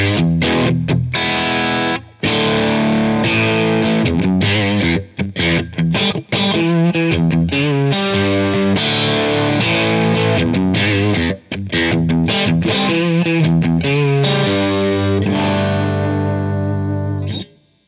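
An electric guitar through a Lunastone Smooth Drive overdrive pedal plays gritty, sustained chords and riffs, loud and close, with a thick, saturated, slightly compressed tone running nearly continuously for eighteen seconds with only a few brief breaks.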